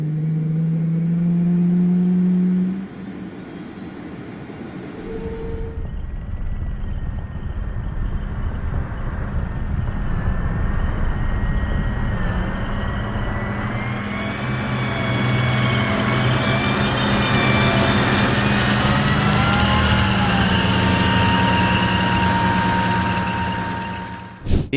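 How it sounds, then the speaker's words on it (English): An M1A2 Abrams tank's turbine engine in the game Squad, a steady loud whine with a rumbling low drone and rising tonal harmonics as it revs up, sounding sustained and fairly close with no talk. "The Abrams has a very distinctive engine sound with that turbine, so you're going to be able to hear that from about 300 meters out."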